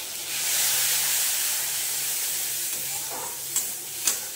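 Spice paste of ground coriander, black pepper and salt mixed with a little water sizzles and hisses steadily in a pan, with a couple of sharp scraping clinks of a spatula near the end.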